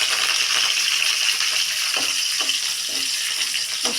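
Curry leaves crackle and sizzle in hot oil with onions, a loud, dense hiss broken by a few sharp spitting pops, close up with no voices.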